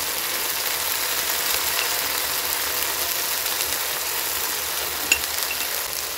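Ginger and garlic fry in a pan while being stirred, giving a steady, dense sizzle throughout, with one faint clink from a utensil near the end and no talk.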